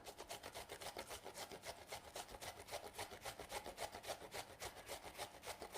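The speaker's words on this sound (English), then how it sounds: "we're going to now grate this for 3/4 of a cup" Food being grated by hand for a ham and corn slice, a fast, even rhythm of rasping strokes scraping across the grater, close and quiet, continuous for several seconds.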